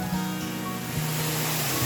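Steady rushing roar of a small-flow waterfall at Bidadari falls in Panggungrejo, Blitar, a broad continuous wash of falling water close by, with no voices.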